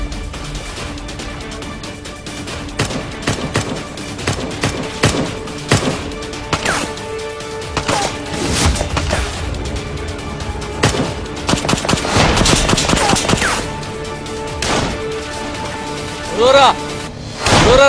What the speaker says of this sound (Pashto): ټول اوسئ ملګرو دفاعي ډزې وکړه